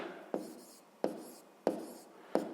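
Pen on paper while working a sixth-grade maths exercise, four sharp scratching strokes at a steady rhythm about two-thirds of a second apart, close and quiet.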